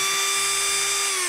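A STRAIGHT cordless grinder for mechanics runs steadily with a high, piercing whine and bright overtones, held at one constant speed for the whole moment with no voices.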